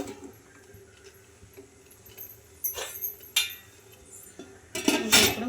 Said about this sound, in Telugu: ఇంకా ఇప్పుడు ఈ ఇడ్లీ స్టాండ్ అయితే పెట్టేసుకుంటున్నాను